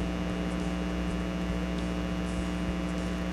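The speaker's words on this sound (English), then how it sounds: "The air conditioning and the fan keep kicking on." Air conditioning and a fan run together indoors, a steady low hum with broadband airy noise, continuous and fairly faint, with no talk.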